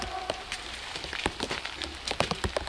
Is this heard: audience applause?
no